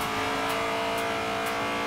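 A Honda S2000 in the Forza video game, engine droning at high revs with tire noise as the car slides out of control; a steady, loud, close mechanical roar throughout the short moment, no voices.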